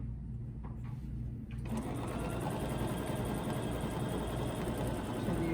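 A sewing machine stitches a quilt block with ruler work. After a quiet opening with light handling sounds, the motor starts and runs in a steady, close, rapid hum of stitching that continues to the end.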